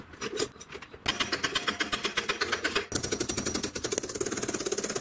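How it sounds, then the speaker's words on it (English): A hammer strikes a piece of metal being enlarged to fit a clamp, with rapid, sharp, close blows in a fast steady rhythm that speeds into dense rattling strikes. "I'm going to hammer on a piece of metal here and hopefully enlarge it a bit"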